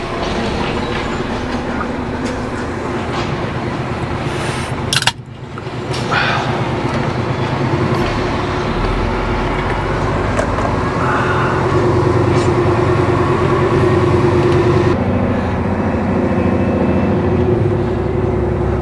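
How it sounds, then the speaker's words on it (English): A train rumbles steadily past on the tracks, with a continuous loud roar, clacking wheels and occasional metallic squeals throughout. "I'm racing the train."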